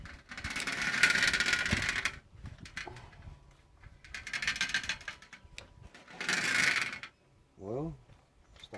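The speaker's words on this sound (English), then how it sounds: "Hear the motor roll over a little bit." A 2-stroke motor on a bicycle turns over as the clutch is let out, giving three rough, noisy bursts of a few seconds each, followed by a brief rising mechanical whine near the end.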